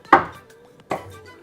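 An 8-inch MOSFiATA carbon chef knife, used with a finger protector, makes two crisp chops against a cutting board, spaced under a second apart, close and clear with no talk.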